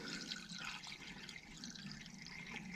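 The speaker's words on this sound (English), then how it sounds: "By pouring the water straight through" Water poured straight into an air conditioner's condensate drain line, giving a steady, close gurgling rush that runs unbroken for the whole short stretch.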